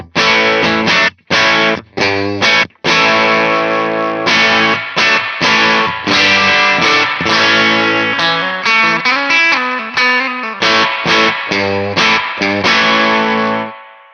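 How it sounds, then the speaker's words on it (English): An electric guitar plays overdriven chords and notes through a TC Electronic AMPWORX pedal set to a deluxe-style amp tone with spring reverb, loud and alone, with choppy strummed bursts early and then sustained ringing phrases with a reverb tail. "A nice spring reverb there."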